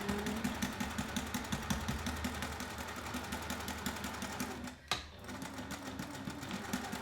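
A sewing machine stitches continuously on a double zip bag, with a rapid, even mechanical rhythm, moderately quiet, pausing briefly near the end before resuming.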